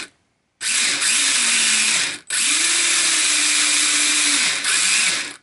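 Dromida 1/18 scale RC touring car with an electric motor revving in two long bursts, a high whining drone that rises and holds, then eases off before a third short rev, loud and close with no voices.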